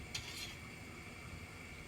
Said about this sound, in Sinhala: ඒක ටිකක් හැඳි ගා ගන්නවා අපි